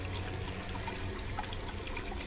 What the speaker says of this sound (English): The water is boiling hot.